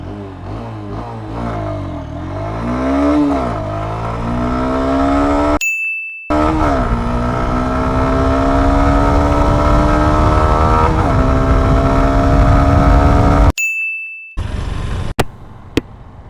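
A Honda Hornet 2.0 motorcycle is ridden flat out on an open road for a top-speed run, its engine note climbing loud and close through the gears, with two brief breaks before it drones on at high revs.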